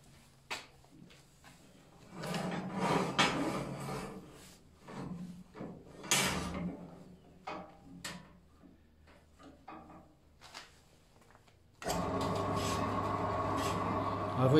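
A Holzmann BS 128 HDR band saw starts a cut near the end, a steady, fairly quiet running hum, after a stretch of scattered handling knocks and someone talking.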